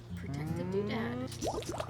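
A cow moos in the video game Wytchwood, one long, drawn-out low moo with a rising tonal call, followed by brief higher chirping game sounds.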